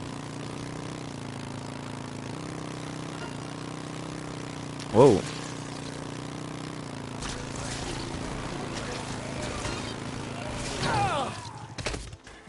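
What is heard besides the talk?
motorcycle engine in video game Dead Rising Deluxe Remaster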